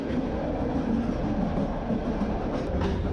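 An older passenger train on the Ufa to Astana route rumbles along in a steady, loud, continuous roar, heard from inside a carriage, with a low rolling drone and faint rail noise and no talking.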